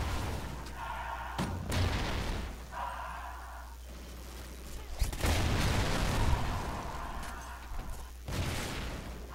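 Bursts of gunfire in a Call of Duty Ghosts team deathmatch, several broadband volleys and booms spread across the clip, fairly loud and close, with game ambience between them.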